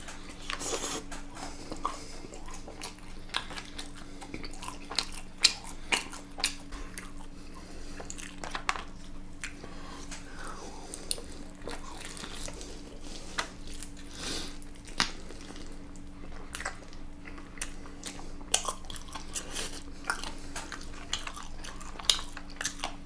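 Chewing and biting into Puradak Mad Garlic Korean fried chicken, close and steady, with soft crunches and moist squishes repeating throughout, no talking.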